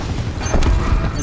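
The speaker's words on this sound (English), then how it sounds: "Cluster grenade." Cluster grenade going off in a fast-paced gunship shooter game, a dense burst of booming detonations filling the short moment, loud and close with no talking.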